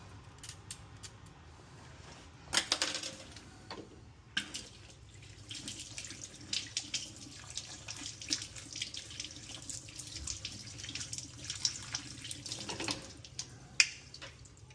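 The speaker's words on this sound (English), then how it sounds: "try and run some water through there" Water runs through a Moen kitchen faucet with low pressure and calcium buildup, a steady hiss with occasional creaks and clunks of handling, close and fairly quiet throughout.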